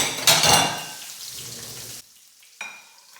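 Liver sizzling and frying in a pan as it is tossed, with a loud scraping burst near the start, then a quieter steady sizzle that cuts out and returns briefly.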